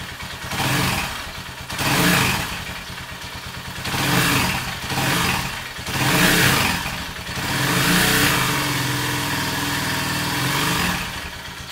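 A 200–250cc motorcycle engine runs after starting, revving in repeated bursts roughly every two seconds, then settling into a steady loud idle, close to the listener with no talk.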